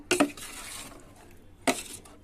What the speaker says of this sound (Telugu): చక్కగా ఆయిల్ శుభ్రంగా కలిసి కలుపుకోవాలి